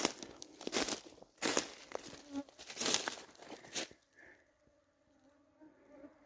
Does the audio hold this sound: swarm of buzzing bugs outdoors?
yes